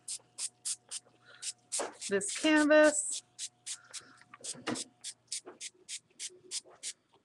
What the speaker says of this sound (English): So I am just going to spray